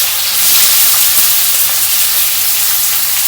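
Onion and freshly picked curry leaves hit hot oil in a pan, giving a loud, continuous, close-up sizzling hiss that stays fairly even throughout.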